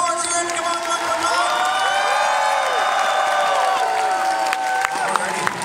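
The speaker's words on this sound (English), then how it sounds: "A bigger round of applause." A large crowd at an anime convention's closing ceremony cheers, whoops and applauds continuously, a dense roar of voices and clapping that stays loud from start to finish.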